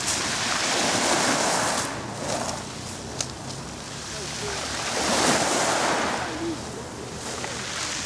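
Steady roar of surf washing onto a Mediterranean shore at Nice on the French Riviera, swelling and easing in broad waves, with wind buffeting the microphone throughout.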